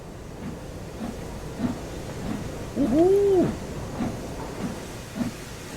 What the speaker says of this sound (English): As the brakes are now released on both the locomotive and wagons, you should now be moving.